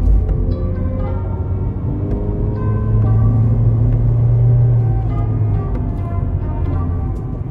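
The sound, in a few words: Toyota Yaris TRD Sportivo engine accelerating in second gear on road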